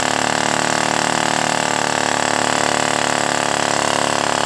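A homemade flame sucker vacuum engine, built by a 12-year-old, runs at speed with a steady, dense mechanical drone that holds evenly from start to finish, close and fairly loud.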